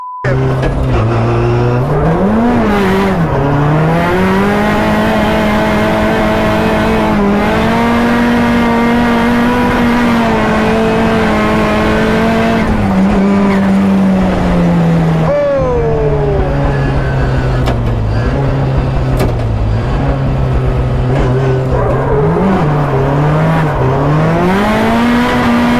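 A 500bhp Mazda MX5 NC drifts around a track, its engine droning loud and continuous for a full lap, with pitch climbing and dropping through gear changes and throttle shifts, under steady tire noise.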